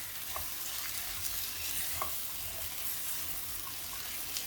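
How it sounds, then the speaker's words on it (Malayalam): Green peas are stirred into a sizzling tomato masala in a pan for a pea and potato curry, a soft steady frying hiss with a few light scraping taps of the spoon. "ഇനി നമ്മളെടുത്ത് വെച്ചിരിക്കുന്ന മട്ടർ അതിലേക്ക് ചേർത്ത് കൊടുക്കാം അതും കൂടെ ചേർത്ത് നന്നായിട്ട് മിക്സ് ചെയ്യാം"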